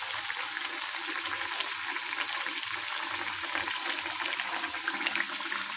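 Nippattu rice crackers fry in hot oil, giving a dense, steady bubbling sizzle that carries on without a break, with no voices over it.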